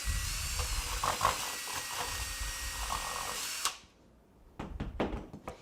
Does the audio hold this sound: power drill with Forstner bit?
yes